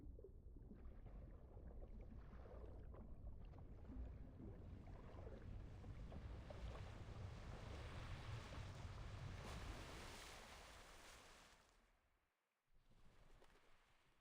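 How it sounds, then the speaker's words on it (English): Ocean waves wash onto a beach on a strange island in the video game Reverse 1999, a broad, steady surf roar that swells and then fades out near the end before a quieter return. "The waves are gently washing over the body."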